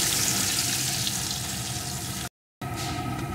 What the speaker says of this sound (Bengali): এখন পেঁয়াজ কুচিটাকে একটু ভেজে নেব।